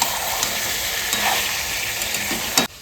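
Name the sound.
mutton being sautéed in a pan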